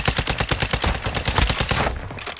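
Shotgun fire in a Call of Duty DMZ match sounds as a loud, close, rapid string of about a dozen booming shots in quick rhythm, ending in a brief quieter tail.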